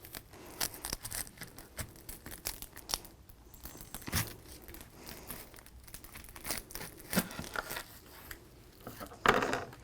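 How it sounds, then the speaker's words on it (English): Outer papery skin being peeled off an onion, close, faint irregular crinkling and tearing rustles in short bursts throughout, with no talk. "And then I'm just going to peel off the outer skin."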